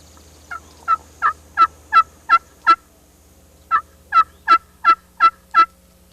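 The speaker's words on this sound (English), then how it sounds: "That was a tree call of a hen." A wild Osceola hen turkey gives her tree call, a series of about six soft, nasal yelps, a pause, then another run of about six, clear and fairly close in a quiet outdoor setting.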